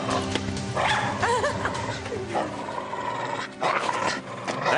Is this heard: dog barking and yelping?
yes